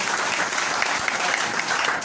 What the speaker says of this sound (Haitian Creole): Applaudis mon Dieu, merci.